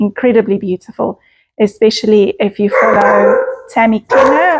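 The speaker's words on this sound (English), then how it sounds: "I'm sorry about the dog barking." A dog barks and gives a drawn-out howling whine in the background while a person keeps talking over it, the animal sounds partly masked by the voice.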